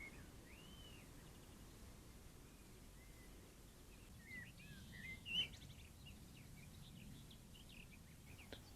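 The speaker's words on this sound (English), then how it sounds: "Shortly after, a juniper thrush passed the place." Faint, distant calls of a juniper thrush, a few short chirps scattered over a quiet outdoor wildlife-camera scene with soft rustling and a low ambient hiss.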